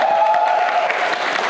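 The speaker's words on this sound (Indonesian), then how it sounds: "Tepuk tangan dulu dong." An audience at a parish youth gathering bursts into brief, dense applause, a short burst of clapping with some crowd noise.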